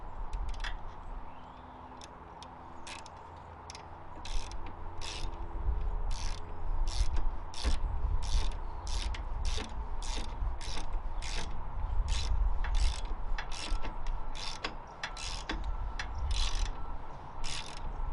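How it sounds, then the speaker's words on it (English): A socket ratchet fitted with an Allen head bit clicks rapidly and steadily while working on a Harley-Davidson Road King floorboard, a close, rhythmic pawl rattle running continuously in short strokes. "Get some sockets with some Allen heads."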